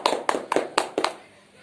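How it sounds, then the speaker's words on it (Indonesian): Short burst of classroom applause with a few sharp, uneven claps spaced through the first second, then fading out, with children's voices faintly beneath. "Tepuk tangan untuk Danis."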